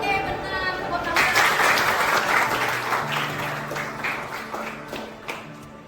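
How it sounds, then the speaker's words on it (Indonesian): Classroom applause for a student after a school project presentation about a burning candle, clapping from a group starting after a second and continuing steadily, with a voice heard briefly. "Oke, benar. Tepuk tangan."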